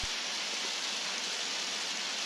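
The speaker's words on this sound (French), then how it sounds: "Ah, il pleut." Steady rain falls in the video game Undertale, a soft, even hiss with no other sounds.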